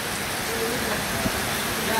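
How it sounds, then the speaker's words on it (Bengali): Heavy rain pours down at a riverside ghat, a dense even hiss of falling drops filling the space with steady noise and one faint knock partway through. "আবার বৃষ্টি এসছে,"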